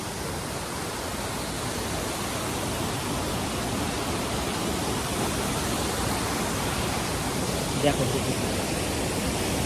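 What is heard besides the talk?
waterfall, rushing water of Kanchenjunga Falls, Pelling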